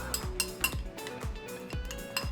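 Korean cucumber salad (oi muchim) being tossed in a bowl, with a few sharp clinks of utensils against the dish coming in an irregular rhythm, fairly close and quiet, with no voices.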